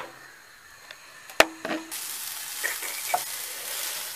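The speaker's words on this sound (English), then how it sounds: "he also likes to fry onions, which I'm going to do and put in his side." Onions hit a hot pan and begin frying with a sudden sizzle that settles into a steady hiss, preceded by a sharp clatter and a few utensil scrapes as they are stirred.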